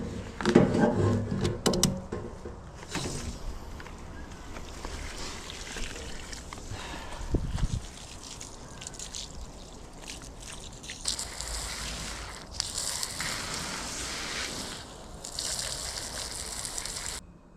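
Running water splashes and trickles over camera gear after an ocean shoot, a continuous uneven rinse with handling knocks and bursts of stronger spray.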